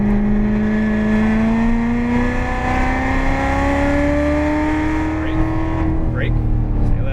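A Corvette Z06 accelerating hard around the Las Vegas Motor Speedway road course, its engine note climbing steadily and loud up through the revs, with an instructor's voice coaching over it.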